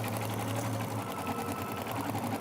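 An embroidery machine sews a tack-down stitch on a quilt, its needle running in a fast, even, continuous mechanical hum at close range, with no talking.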